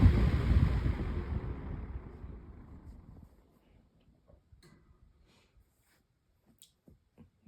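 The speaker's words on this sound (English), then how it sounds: "It does have a pretty cool effect when it spins down due to the skinny blades." A 20-inch Holmes pedestal fan with skinny blades and an out-of-balance rotor spins down after being switched off. Its loud whooshing hum fades steadily over about three seconds, then only faint scattered ticks and clicks remain.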